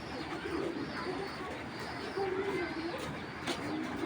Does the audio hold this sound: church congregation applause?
no